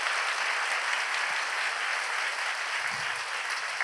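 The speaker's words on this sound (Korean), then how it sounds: "우리 하나님께 감사의 영광의 박수 올려드리기를 원합니다" Sustained applause from a large congregation at a church healing service, dense and steady throughout with no talking over it.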